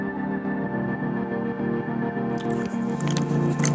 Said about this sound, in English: I'm chewing and making all this juicy noise